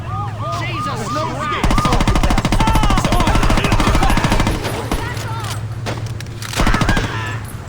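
An M4 rifle in the video game Saints Row fires a loud, rapid automatic burst lasting about three seconds, followed by a couple of shorter bursts amid background game sound.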